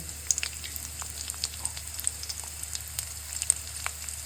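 Chopped garlic and ginger frying in a pan, giving a soft, steady sizzle dotted with tiny crackles and pops, fairly quiet and without voices.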